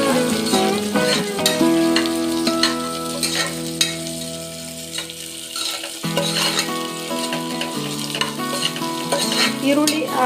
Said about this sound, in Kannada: ಈರುಳ್ಳಿ ಮತ್ತು ಮೆಣಸಿನಕಾಯನ್ನು ಕೂಡ ಹಾಕ್ಕೊಳ್ತಾ ಇದ್ದೀನಿ. ಸ್ವಲ್ಪ ಎಣ್ಣೆಲಿ ಫ್ರೈ ಮಾಡ್ಕೊಂಡು